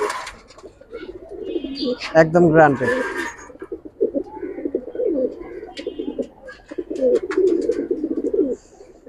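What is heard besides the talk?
Giribaz pigeons cooing in a loft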